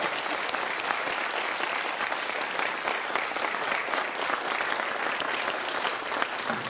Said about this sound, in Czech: Já myslím, že zaslouží i váš potlesk.